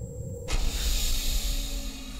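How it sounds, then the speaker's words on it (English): A cat rubbing against a microphone, heard as a close, loud muffled rumble and brushing hiss that starts suddenly and continues steadily, with no talk. "I have a cat rubbing up against my mic."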